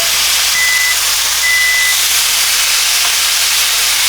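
Chicken cordon bleu sears in a hot pan, giving a steady, loud sizzling hiss that fills the whole stretch without pause and with no voices over it.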